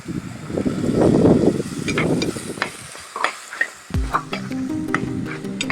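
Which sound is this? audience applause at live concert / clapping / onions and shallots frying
onions and shallots frying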